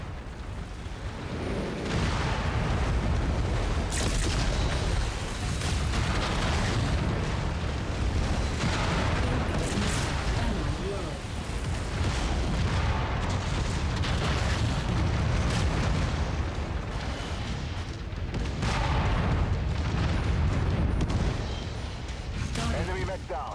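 Mech weapons fire and explosions in the video game MechWarrior 5 form a continuous heavy barrage of booms and blasts. The loud, rumbling bursts overlap throughout with hardly a pause, and voices come through now and then.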